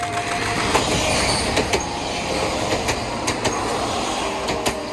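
An Isumi Railway KiHa 28 diesel railcar passes a rural level crossing without barriers amid farmland, its wheels clacking over rail joints in a steady rhythm of sharp clicks over a continuous rumbling roar, close and loud.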